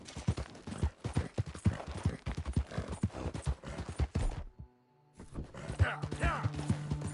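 Horse hooves clip-clopping at a steady pace in Red Dead Redemption, a rhythmic run of close thuds with creaking tack, pausing briefly before resuming.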